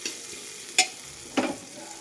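Onion added to a pan of ginger and garlic for vegetable soup, with faint sizzling under two brief scraping stirs of a spoon, close and quiet.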